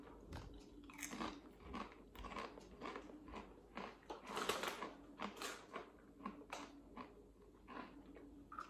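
Mackie's of Scotland tangy tomato flavour crisps crunched up close, a run of sharp, irregular bites and chewing crackles with brief quiet gaps between.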